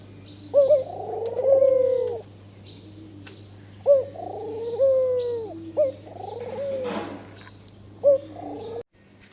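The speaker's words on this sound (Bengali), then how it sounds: "সকালবেলা ঘুঘুর ডাকগুলি খুব ভালো লাগে" Repeated cooing of a ghughu dove on a rooftop in the morning: four phrases in a steady rhythm, each opening with a sharp note and sliding into a long low coo, close and clear with no talk.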